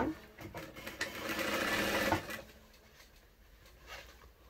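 A sewing machine stitches two pieces of fabric placed right sides together, running in one fast, close, steady burst for about two seconds before stopping, followed by quieter handling of the fabric.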